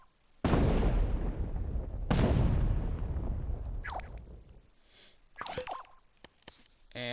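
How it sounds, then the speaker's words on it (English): Two booming explosions from the LittleBigPlanet 3 video game, each a sharp loud blast with a long rumbling decay, followed by fainter scattered pops and clicks. "we can make a single explosion, just like this"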